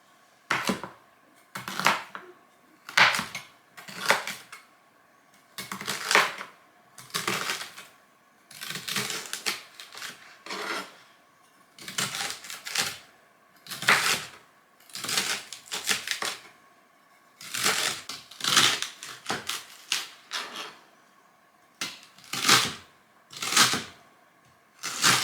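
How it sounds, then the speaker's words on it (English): A knife dices rhubarb on a cutting board in rapid bursts of sharp chopping clicks, close and crisp, repeating steadily with brief pauses between runs and no talking. "So we're going to dice up this rhubarb"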